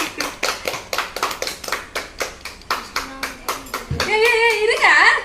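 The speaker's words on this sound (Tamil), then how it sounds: "கை தட்டுடா" Hands clap in a steady, fairly loud rhythm of a dozen-plus claps at a wedding anniversary celebration, then the clapping gives way to loud overlapping voices and cheering near the end.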